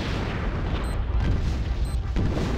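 A dense, roaring explosion in the video game Conker's Bad Fur Day, in a wartime battle scene, fills the whole moment with heavy rumbling blasts and debris noise, loud and close, with no pause.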